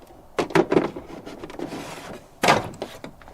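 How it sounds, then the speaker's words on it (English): A couple of hollow plastic slides and thunks, the plastic drawer of an Ivation 19-pint desiccant dehumidifier pushed into place, with a second firmer knock near the end; close and moderately loud. "So this drawer still fits in there."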